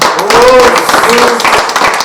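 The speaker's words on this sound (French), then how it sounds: "Si vous pouvez applaudir pour le président." Close, loud clapping from a karate club gathering in Lubumbashi honouring the club president, with distinct hand claps and a voice briefly heard over them.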